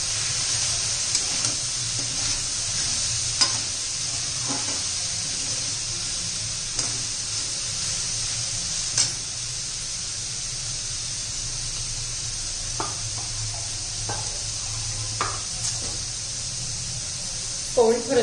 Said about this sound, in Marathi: आता खोबऱ्याबरोबर पण परतून घ्यायचे, म्हणजे खोबरं चांगलं भाजून निघेल